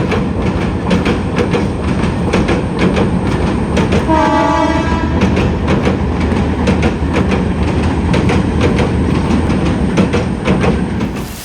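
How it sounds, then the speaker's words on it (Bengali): A train crosses a bridge, loud and close, with continuous rumbling and clattering wheels and a brief horn blast partway through. "আরেকটা ট্রেন আসতেছে এই যে একটা ট্রেন যাচ্ছে দেখেন ব্রিজ দিয়ে"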